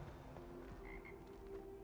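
A frog croaks softly in Hogwarts Legacy, a low repeated call over a quiet ambient game background, with no talking.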